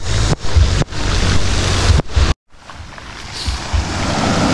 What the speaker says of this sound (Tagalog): Ayan yung alon.